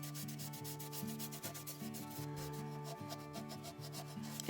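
A sanding block scrubs back and forth over painted thrift-store wood in steady rhythmic strokes, close and clear, with a faint musical tone playing in the background.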